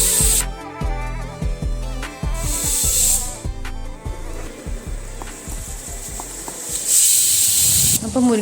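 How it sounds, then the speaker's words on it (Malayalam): A pressure cooker holding drumsticks and tomatoes for rasam lets off two loud, hissing whistle bursts of steam, one short and one longer, over busy background clatter. "കുറച്ച് വെള്ളം ഒഴിച്ചിട്ട് ഒരു 3 വിസിൽ വരുന്ന വരെ വേവിക്കുന്നുണ്ട്"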